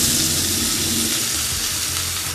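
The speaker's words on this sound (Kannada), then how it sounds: "ಅದರೊಟ್ಟಿಗೆ 100 ಗ್ರಾಮ್ ಅಷ್ಟು ಸಣ್ಣಗೆ ಹಚ್ಚಿರ್ತಕ್ಕಂಥ ಈರುಳ್ಳಿ," Chopped onions frying in hot oil with shahi jeera for a spicy chicken fry, a steady dense sizzle running unbroken and fairly loud throughout, with no voices.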